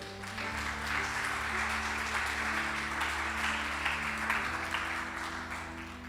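A church congregation claps steadily over sustained organ or keyboard chords, a dense wash of hand claps at moderate volume that carries on through the whole stretch without letting up.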